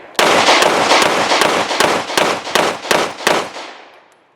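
A Springfield Armory Hellcat Pro handgun fires about ten rapid, loud, sharp shots in quick succession at close range, each crack ringing out briefly before the last shot fades.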